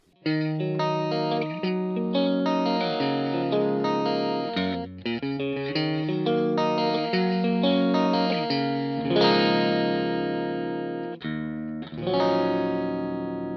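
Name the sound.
electric guitar pedalboard clean tone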